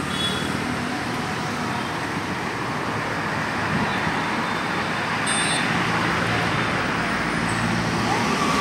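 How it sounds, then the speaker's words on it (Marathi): Steady road traffic in Panaji, Goa, cars and heavier vehicles passing in a continuous roadway rumble with a brief high whine midway, fairly loud and without speech. "काही वाहने मात्र सर्रासपणे पणजीसह परवरी परिसरात येत आहेत।"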